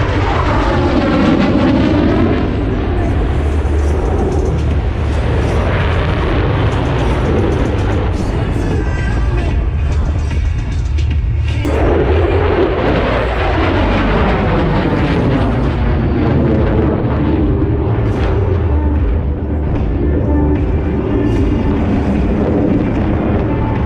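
An F-16 Fighting Falcon fighter jet roars through an air show demonstration pass, loud and continuous for the whole stretch, its engine rumble swelling and shifting as it pulls from horizontal flight into the vertical.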